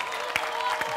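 Audience applause honoring volleyball champion Facundo Conte on a musical TV show, a steady wash of clapping with a couple of louder accents, continuous through the short moment.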